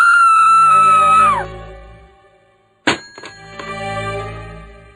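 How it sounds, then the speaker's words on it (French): A woman's high, falling scream sounds as if heard down a telephone line in a dramatized story, followed after a brief hush by a sharp metallic clang and ringing resonance. "Un cri de femme retentit dans l'acoustique du téléphone."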